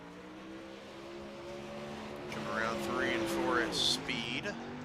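Number 10 Bubba Gump super late model race car at Lanier speedway. The engine hums steadily, then rises into a series of revving pulls and shifts, with a voice talking over it.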